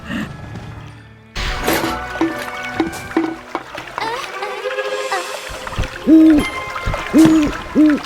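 A guardian owl in the video game Baldo hoots in three loud, rounded calls near the end, after a mix of splashes, clatter and game ambience.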